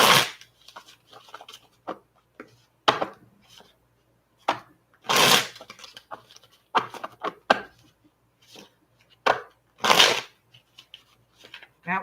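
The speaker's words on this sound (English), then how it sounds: "That was a sucky shuffle." Tarot cards being shuffled by hand in a series of crisp riffling bursts, a few louder flurries among lighter taps and slides, close and fairly quiet, with a faint low hum beneath.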